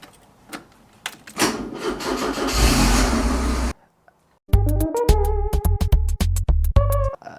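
A Porsche 944 with a previously dead battery, revived by being plugged in, cranks and catches loudly up close, then drops to silence before a loud, stuttering blare of repeated harsh tones.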